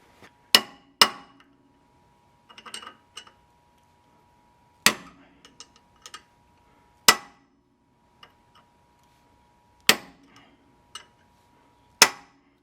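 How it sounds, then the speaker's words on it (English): A hammer strikes a punch into the ridge of a rear axle nut on a 2009 Subaru Forester, giving sharp metallic blows spaced a second or more apart, with a few softer taps between them in an otherwise quiet workshop. "the final thing I want to do is punch in the ridge of this axle nut"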